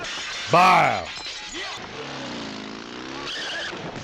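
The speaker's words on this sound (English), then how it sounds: "He tossed Shorty through the glass like" Glass shatters loudly as a man is thrown through a pane in a fight scene from the 1985 Hong Kong action film Police Story, followed by crashing debris and a tire squeal with film sound under it.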